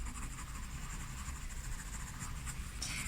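Pencil drawing and shading on paper with a somewhat stronger pencil, a steady close scratchy scraping of graphite strokes running continuously, with no voices.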